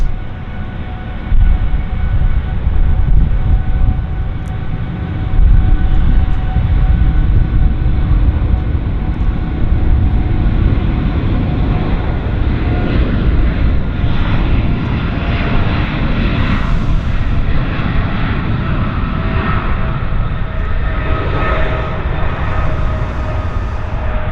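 An airliner accelerates down the runway on its takeoff roll at Vancouver airport, a loud continuous engine roar with a rising whine that holds steady for over twenty seconds.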